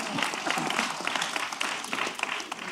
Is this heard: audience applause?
yes